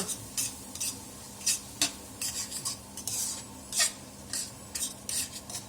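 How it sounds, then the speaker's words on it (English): Maggi masala noodles stirred in a pot with a utensil, giving repeated scraping and clinking strokes at a steady, irregular rhythm, close and moderately loud, with a faint sizzle underneath and no talking. "Stir."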